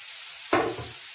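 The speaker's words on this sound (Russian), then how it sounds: "Мы добавляем морковь. И поджариваем до готовности." A sudden burst of sizzling as carrots hit a hot pan with half-cooked onion, crackling loudly at first then settling into a steady fry, with no voices.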